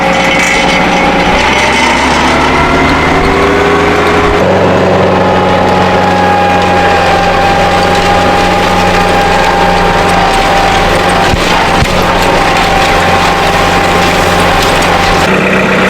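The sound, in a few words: tractor engine running while tilling a food plot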